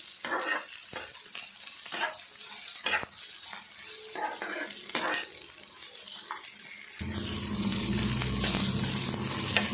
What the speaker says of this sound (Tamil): இது சின்ன சின்னதாக கட் பண்ணி போட்டுக்கலாம் வெங்காயத்து கூட மிக்ஸ் பண்ணி லைட்டாக வதக்கிடுவோம்